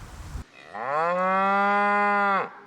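Cattle on an 11-hectare farm that also keeps horses and pigs, during a drought, give one long, loud, steady moo. The moo is close and drawn out for nearly two seconds after a brief burst of noise.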